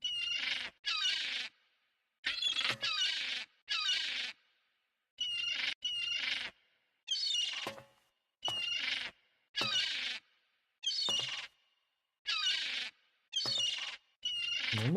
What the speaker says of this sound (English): Weird, because there aren't normally seagulls.